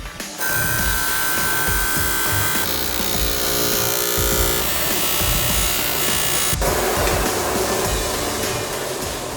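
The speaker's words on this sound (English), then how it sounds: "We trim exactly where the mark was." A motorcycle windscreen is trimmed along a marked line, giving a loud, steady cutting and grinding noise that runs for the whole stretch and changes tone partway through.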